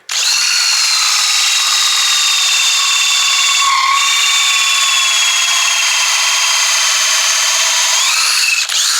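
Power drill boring into a wooden dashboard, a loud, sustained high whine running steadily for several seconds with a brief dip midway, close and alone.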